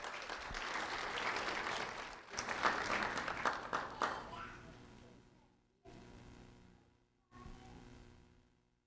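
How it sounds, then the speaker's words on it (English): An audience applauds student Jeremiah Bromfield at a Do the Right Thing ceremony, a full burst of clapping that fades after about four seconds into quieter room noise with brief dropouts. "a round of applause for Jeremiah Bromfield"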